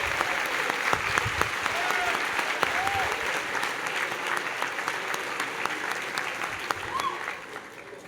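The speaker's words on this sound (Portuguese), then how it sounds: "dê uma salva de palmas para ele" A church congregation at a service applauds one another, sustained, full clapping from many people filling the room, with faint voices mixed in before it tapers near the end.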